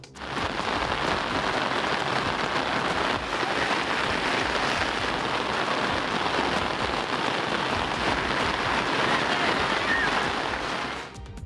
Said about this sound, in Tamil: திருச்செந்தூரில் தொடர்ந்து 2வது நாளாக கனமழை பெய்து வருவதால்